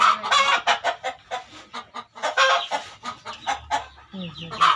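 Plump chickens fed alongside rabbits cluck in repeated close, choppy bursts, one bird after another, with a person speaking briefly among the calls.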